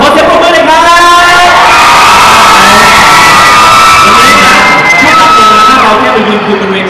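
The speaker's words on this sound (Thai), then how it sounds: "นี่เอ้าขอเสียงปรบมือเลยครับ" A fan meeting crowd of mostly young fans for the actors Kao and Mikey screams and cheers loudly and continuously, shrill whoops and shouts rising over a roaring mass of voices.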